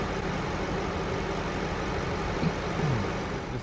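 A BMW N63 engine idles steadily at a slightly low 700 rpm, producing a continuous even low hum with no speech and only faint small variations near the end.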